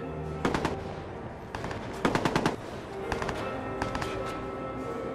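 Enemy gunfire in the Watch Dogs video game crackles in several rapid automatic bursts, fairly close and sharp, spread across a steady background of game ambience.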